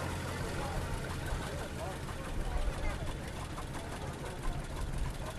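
A restored John Deere G antique tractor runs at an antique tractor show, its engine idling with a rough, knocking chug at moderate distance amid open-air background noise.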